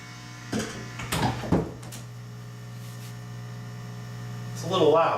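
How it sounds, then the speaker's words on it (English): A water pump in a homemade hydroponic garden runs with a steady low hum throughout, with a few brief knocks and clatters early on and a louder gurgling burst near the end. "Wasn't making that kind of pump noise outside."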